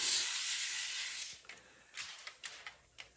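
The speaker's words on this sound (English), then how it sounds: "simply spray the starch" Spray starch hisses from an aerosol can onto a colored coffee filter in one long loud burst that fades, followed by several short, quieter sprays.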